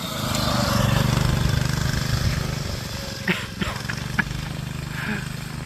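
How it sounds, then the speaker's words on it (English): A mini bike with a 212 engine and a snow tire on the rear rides along outdoors in freezing cold wind at about 20 mph, its steady engine drone running throughout with a few brief knocks near the end. "we're on a mini bike doing like 20 miles per hour"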